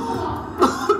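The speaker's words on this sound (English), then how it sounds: "He is doubled over, coughing uncontrollably." A man coughs in a few harsh, abrupt bursts, close and moderately loud, over a steady background rumble.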